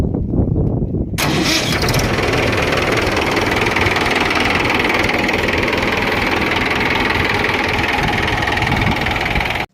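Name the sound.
Mahindra 475 tractor engine idling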